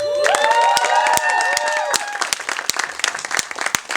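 A crowd bursts into applause with whoops and cheers, sharp claps rising over a whistle-like shout, steady and close.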